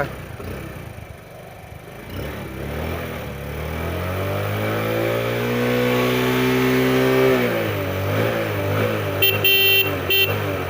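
A Bajaj Platina motorcycle engine runs nearby, idling with a low steady hum that swells into a rising rev and settles back down, with faint background noise and no talking.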